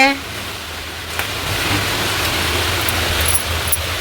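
Heavy rain pours down in a dense, steady hiss that fills the whole span after a brief quieter opening, close and unbroken.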